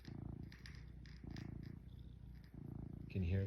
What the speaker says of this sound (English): Can you hear the purring?